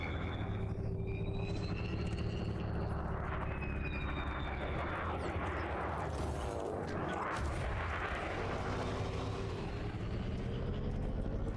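Spaceship weapons fire in Elite Dangerous, a steady dense roar of blasts and engine rumble with whining tonal sweeps drifting across, continuous and fairly distant-sounding throughout.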